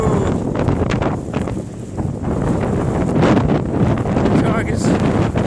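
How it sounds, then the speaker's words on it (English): Strong winter storm wind gusting at 30 to 40 miles an hour over a foot of snow, buffeting the microphone in loud, uneven roaring bursts that rise and fall throughout. "definitely extremely windy"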